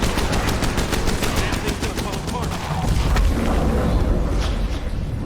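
Video game combat with sustained rapid gunfire and blasts as a plague guard is blown up, a dense continuous roar of shots and explosions throughout.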